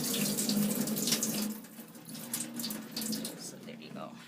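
Tap water runs steadily into a sink while rice is rinsed, a close splashing rush that eases midway then continues with small sloshes and drips, with no speech over it.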